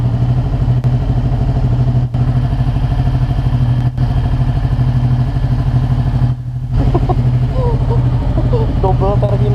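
A Ducati Panigale 1199S motorcycle engine runs loud and steady at idle throughout, with a deep continuous rumble and a brief dip partway through, while voices are heard faintly alongside it.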